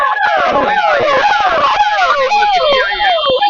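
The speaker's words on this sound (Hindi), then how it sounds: "देखिए एम्बुलेंस आई है" An ambulance siren wails loud and near as the vehicle passes through a large crowd of protesting students on a flyover in Patna, its repeated rising and falling tones cutting over shouting voices and crowd noise.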